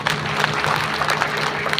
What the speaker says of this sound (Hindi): आप सब अपनी करतल ध्वन से बड़े हृदय से उनके नाम पे ताली बजा दीजिए